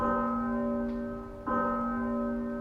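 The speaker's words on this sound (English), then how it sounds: "Who pulls the town hall bell rope but blind Captain Cat?" A town hall bell rung by rope for a radio drama effect: two clear, loud strikes, about one and a half seconds apart, each leaving a long, steady metallic ring that hangs in the air.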